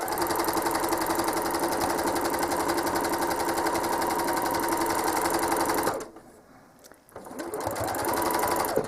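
A home sewing machine stitching a quilt runs steadily at a fast stitching rhythm, pauses briefly for about a second, then starts stitching again.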